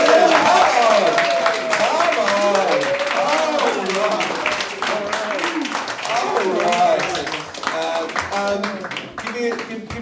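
A comedy-club audience at a roast battle in Berlin claps and cheers to welcome the judges. Dense, loud applause runs throughout with whoops mixed in and voices talking over it.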